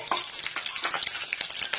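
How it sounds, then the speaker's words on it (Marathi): Chilies, curry leaves, cumin and mustard seeds frying in hot oil in a kadai for upma, a steady crackling sizzle with repeated scraping stirs, close and alone. "हे फ्राय करून घ्यायचं, व्यवस्थित फ्राय करून घ्यायचं सगळं"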